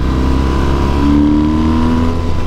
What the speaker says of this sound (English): I love the induction noise. I love the exhaust noise.